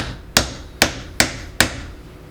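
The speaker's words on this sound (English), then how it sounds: "We're gonna hammer that puppy in there." Four evenly spaced, sharp hammer blows drive a fitting into a 4x2x2 Dubia roach enclosure, each strike loud and close with a short decay.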